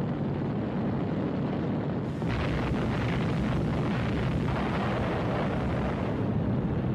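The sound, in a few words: depth charge explosions dropped by patrol aircraft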